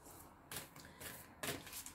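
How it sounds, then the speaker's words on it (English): Two brisk riffles of a Beyond Lemuria oracle card deck being shuffled up close, each a short papery flutter, spaced about a second apart in a quiet room. "Let's give them a shuffle."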